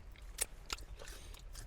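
Crunchy Korean fried chicken is bitten and chewed close up inside a car, giving a few sharp, quiet crunches followed by softer chewing, with no talking.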